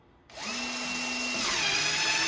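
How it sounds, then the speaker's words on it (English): A HYTORC centerlock torque tool spins up to loosen a Porsche wheel lug. Its electric motor whirs loudly and steadily, rising in pitch once, close by with no other sound. "Now it will loosen the lug."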